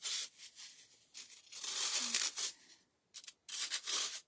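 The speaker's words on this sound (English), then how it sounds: "this foam, it cuts really easy. You can just use a pair of scissors." Scissors snipping through soft craft foam, a series of close, scratchy rasping cuts in quick bursts with short gaps between them.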